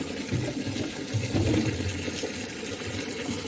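Free-flowing drinking water runs and splashes as it is fetched into a container during a stay in Bicol, a continuous close gurgling pour with no talking.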